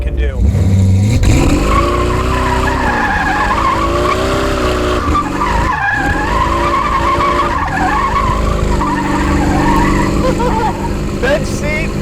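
A light 1932 Ford Hi-Boy hot rod with a snappy V8 does a burnout, the engine roaring loudly and steadily with tire squeal over about twelve seconds, rising and dipping in pitch as it revs.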